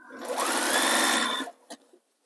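A sewing machine stitches through a thick, bulky layer of fabric for a flower-pattern sewing machine cover, running loud and steady for about a second and a half, then a brief clunk and a short mechanical knock as it stops.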